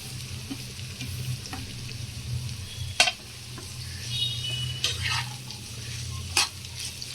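Chopped sweet potato, cauliflower, carrot and papdi beans drop into a frying pan for Maharashtrian bhogi vegetable dish, steady soft sizzling with a few sharp clatters and scraping stirs, faint and close.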